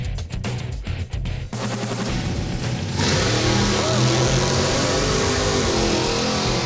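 A drag racing car engine at a drag strip roars loud and close, with a sharp surge of power about halfway through that holds steady to the end, while a commentator talks over the first part.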